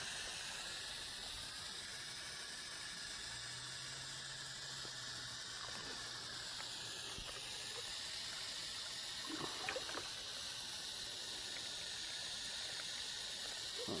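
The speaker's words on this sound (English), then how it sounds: "Give my tree a drink of water" Water running from a garden hose onto a container-grown tree in hot, dry weather, a continuous faint hiss and trickle lasting the whole stretch with a few soft splashes.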